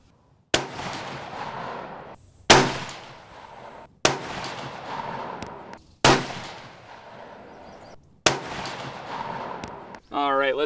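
Hunting rifle shots ring out while a riflescope is being sighted in: five sharp, loud reports spaced roughly two seconds apart, each followed by a short echoing decay.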